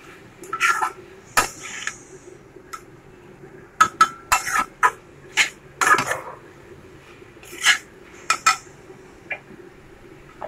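Modak filling is stirred in ghee in a pan, heard as irregular sharp metallic clinks and scrapes of a spoon against the pan, close and fairly loud, separated by quiet gaps.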